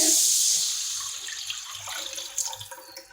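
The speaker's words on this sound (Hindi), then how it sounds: "इसके बाद हम इसमें ऐड करेंगे ऑरेंज जूस का मिक्सचर" Orange juice mixture pours into a pan while cooking, a loud splashing liquid stream that tapers off, followed by faint sizzling and a couple of light clinks.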